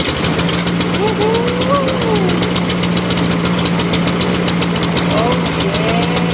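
A repaired Honda lawn mower engine runs close by, chugging with a rapid, steady rhythmic beat and a low drone throughout, while a voice speaks over it.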